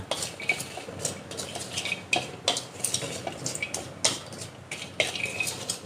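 Ingredients stir-fried in a pan for a Thai dish with sesame, tossed with a utensil that scrapes and clinks against the metal in repeated irregular strokes over a soft sizzle, close and fairly loud.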